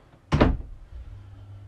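A large wardrobe door in a 2018 Lunar Alaria TS caravan swings open with a single soft wooden thunk and brief rattle, close and fairly quiet, then a low hum of the interior remains.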